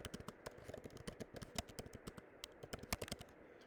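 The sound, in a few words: computer keyboard typing, entering a title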